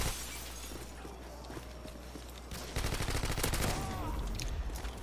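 Bursts of rapid gunfire in Call of Duty Modern Warfare 2, a free-for-all PC match, crackling loudly over a low game rumble, growing denser and heavier in the second half.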